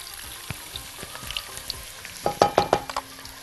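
Onions dropped into hot ghee and oil in a pan crackle and sizzle close by, a low frying hiss broken by a few clattering stirs and sharp pops that grow louder toward the end.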